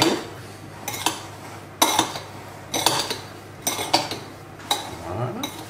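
A utensil stirs sugar into blackcurrants in a bowl, clinking and scraping against the side in a regular series of close, distinct strokes, with no speech.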